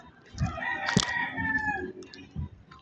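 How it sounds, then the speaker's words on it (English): A rooster crows on a farm among other chickens, one drawn-out cock-a-doodle call rising through the middle, with soft clucks around it and a sharp bump at the end. "There's a chicken."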